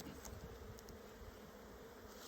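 Honeybees buzzing at an open, healthy hive, a faint steady drone with a few brief louder passes as bees fly close.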